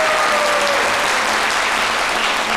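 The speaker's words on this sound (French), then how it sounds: "On les applaudit très fort." A studio audience on a French-language midday TV show applauds in a dense, steady, loud burst that fills the whole stretch without letup.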